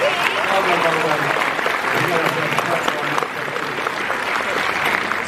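Crowd at Liverpool Comic Con 2023 giving a girl a round of applause, sustained clapping filling a busy hall with a speaking voice running over it.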